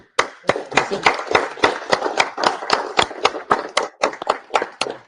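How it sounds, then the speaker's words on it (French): Scattered hand claps from a small audience after a talk on voice AI, irregular sharp slaps over a steady murmur of voices, fairly close and moderately loud throughout. "on applaudit"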